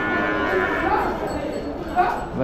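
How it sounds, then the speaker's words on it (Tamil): Cattle at an open livestock market in Vaniyambadi low repeatedly through a busy, crowded background, the moos fairly close and loud and running almost without pause. "சரியான ஹைட்டு மாடு"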